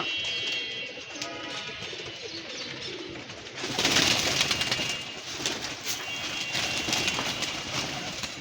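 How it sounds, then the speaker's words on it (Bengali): Pigeons coo in low, throaty bursts close by while a scuffle breaks out midway, bringing a rush of flapping wings and louder, busier cooing. "ওই দেখেন একটা কবুতর মারামারি করছে এই মারামারি করিস না"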